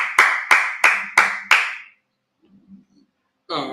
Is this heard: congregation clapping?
yes